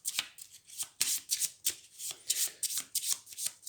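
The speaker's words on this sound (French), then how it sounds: "On prend notre défausse, on prend notre main, on mélange." Shadowrun Crossfire Prime Runner Edition game cards being shuffled by hand in a solo game, a close, crisp run of repeated riffling bursts in a quick, steady rhythm with no talking.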